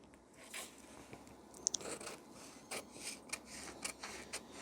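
Scissors cut through blouse fabric at a tailoring table, giving faint, close, crunchy snips and rasping slides in an irregular rhythm against a quiet background.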